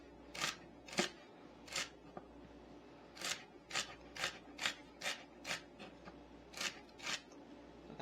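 A knife slices celery thin on a cutting board in a quiet, steady series of crisp cutting strokes, roughly one or two per second, with no talking.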